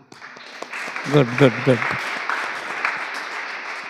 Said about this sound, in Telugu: అందరూ గట్టిగా చప్పట్లు కొట్టండి